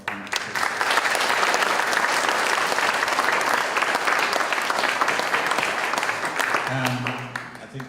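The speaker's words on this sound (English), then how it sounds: "I really want to kind of like a round of applause here for our panelists" An audience at a home-of-the-future panel event applauds the panelists: sustained, dense clapping that holds steady for several seconds before tapering off, with a faint voice at the very end.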